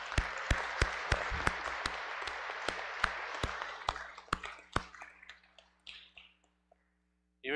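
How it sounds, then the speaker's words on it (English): Churchgoers at an Ascension of the Lord Mass applaud a music director: a crowd's clapping fades out over several seconds while one set of hands keeps up sharp, evenly spaced claps close by, ending in near silence. "Let's thank him all with a round of applause"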